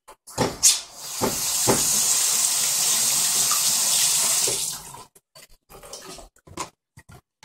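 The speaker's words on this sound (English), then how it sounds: "I'm going to wash my hands." Hands washed under a kitchen faucet while making banana waffles: a steady rush of running water for about four seconds, bracketed by brief clatters and splashes before and after.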